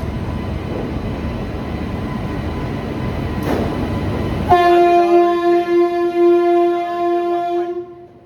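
An express train with new LHB coaches rumbles in loud and close, then its horn blasts in a long, sustained tone that holds for several seconds before cutting off.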